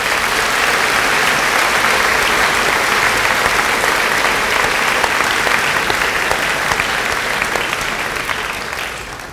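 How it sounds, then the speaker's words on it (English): Sustained, dense applause from a middle school graduation ceremony audience honoring a retiring special education teacher, loud and even throughout before easing off slightly at the close. "If you could give them a round of applause."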